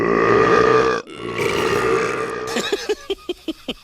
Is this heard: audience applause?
no